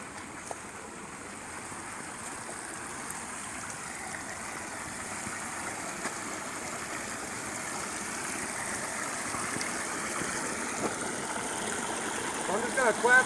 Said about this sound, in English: even small creeks like this right here, you know, that are tributaries to the main creeks